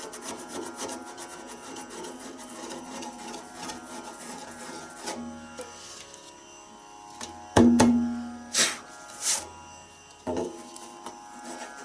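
Steady dry rubbing across a tabla drum skin to clear off powder build-up, a continuous close scratchy friction that turns into a few sharper squeaks and scrapes toward the end.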